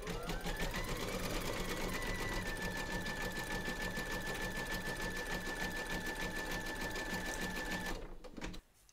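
An embroidery sewing machine stitches flesh-pink thread for a Santa's legs in steady, rapid needle strokes, loud and close throughout, with a sustained whine running above until it stops near the end.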